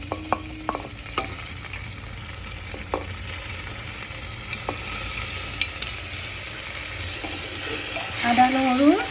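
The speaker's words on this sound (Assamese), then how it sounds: "আদা নহৰুৰ কেঁচা গোন্ধটো যোৱালৈকে ভাজি আছোঁ।" Ginger garlic paste fries in a pan for masoor dal, a soft continuous sizzle under scattered clicks and scrapes of a spoon stirring. A brief louder rattle comes at the end.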